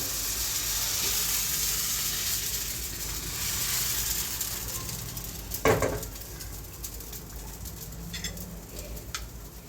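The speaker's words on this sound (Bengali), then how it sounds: "আরেক চুলায় বাকি পিঠাগুলা ভাজা হচ্ছিল।" Pitha rice cakes frying in oil on a stove, a steady hiss of bubbling oil fading somewhat over time, broken by one sharp clatter midway and a few small ticks afterward.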